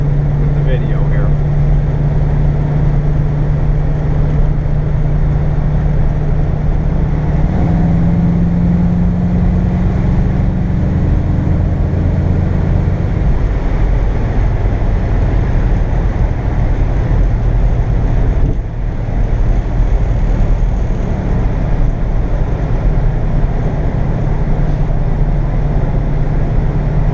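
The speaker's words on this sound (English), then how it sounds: "I'm hoping you can hear the tone of the engine with the video here." A 1962 car's engine running while driving, a loud continuous low drone with slight shifts in pitch and steady road rumble throughout, close-miked inside the vehicle.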